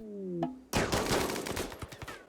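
Gunfire erupts in a Rimworld battle on an extreme desert map: after a brief tonal cue, a dense, loud volley of overlapping shots breaks out and continues as a rattling fusillade.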